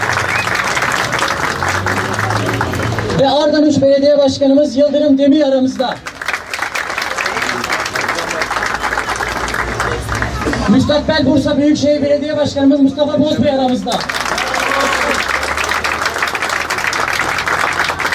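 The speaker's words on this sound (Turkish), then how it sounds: "Kendilerini bir daha alkışlamanızı rica ediyorum" Audience applauding for visiting Artvin-area mayors at a CHP election office opening in Bursa, with two loud bursts of clapping a few seconds each, each set between stretches of someone speaking over a PA.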